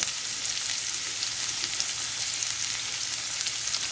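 Steady, close sizzling of food frying in a little oil, an even hiss without breaks.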